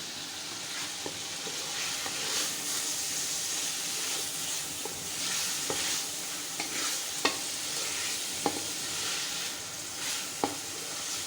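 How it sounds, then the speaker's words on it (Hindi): Meat fries and sizzles in a pot, a steady close hiss broken by several sharp scraping clacks as it is stirred, with no talking. "ब्लड वगैरह या कच्चापन, वो थोड़ा सा भून के ख़त्म करेंगे"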